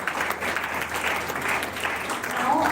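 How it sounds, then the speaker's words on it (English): Audience applause at an inter-school declamation contest, steady dense clapping from a crowd filling the whole stretch and swelling slightly toward the end. "please give a big round of applause for all our contestants"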